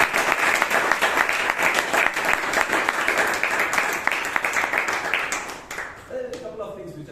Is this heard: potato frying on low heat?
no